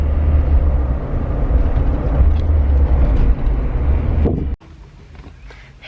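Car driving with a loud, close, steady low road rumble and wind buffeting inside the cabin; the noise drops abruptly near the end, leaving a quieter hum.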